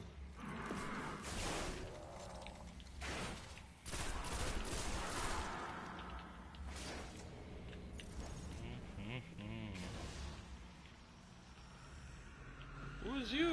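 Machine gun fire in the Destiny video game, with sustained rapid bursts over a dense game soundscape and players talking throughout.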